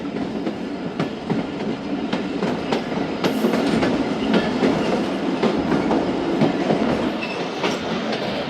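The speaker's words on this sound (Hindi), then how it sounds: "ट्रेन पहुंच रही है मुजफ्फरगढ़ रेलवे स्टेशन" The Thal Express rolls along the rails nearing Muzaffargarh station, a loud continuous rumble with rhythmic clickety-clack from the wheels over rail joints, close and steady throughout.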